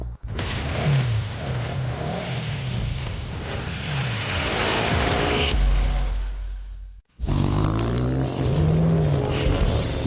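Race cars rev and accelerate loudly and close by, a sustained roar that cuts off abruptly, then resumes with rising engine pitch as the cars take off.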